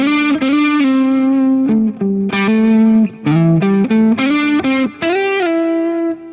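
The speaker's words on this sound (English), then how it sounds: "you can slide into a note" Distorted electric guitar playing a scale with slides into each note, heard as a series of sustained pitches that glide up and down with short gaps between phrases, close and loud with no talking.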